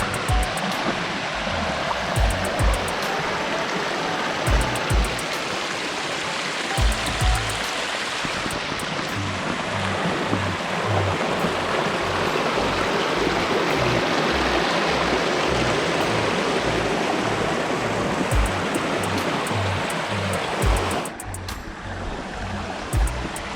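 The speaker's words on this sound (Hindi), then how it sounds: "आफ्टर एवरी 2 मिनट्स एक वाटरफॉल मिल जाएगा" Small waterfall and stream near Kharghar, Navi Mumbai: a steady, broad rush of flowing water throughout, with low thumping bumps and rustle from nearby handling.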